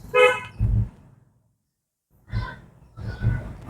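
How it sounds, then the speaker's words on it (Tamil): Two or three short car horn toots from a car during a driving lesson, close and fairly loud, separated by a brief silence. "ஹாரன் மட்டும் ஒரு தடவை"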